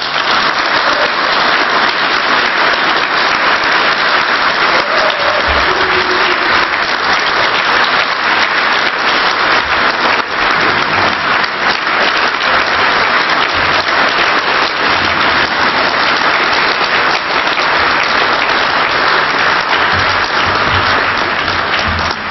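An audience applauds after a political speech at a Piratenpartei Ash Wednesday event in Ingolstadt, with steady, dense clapping that holds loud and unbroken from start to finish.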